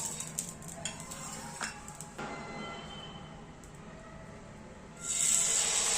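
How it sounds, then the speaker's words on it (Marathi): A spoon or spatula scrapes and clinks while spreading a little oil on a hot griddle, followed by a steady hiss that rises sharply near the end. There is no talking. "मी थोडंसं तेल लावून घेणार आहे तव्याला"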